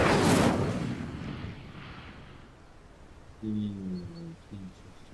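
A fiery spell is cast in the Hogwarts Legacy video game, a loud whooshing fire burst at the start that quickly fades into a soft rumble, followed by faint game tones.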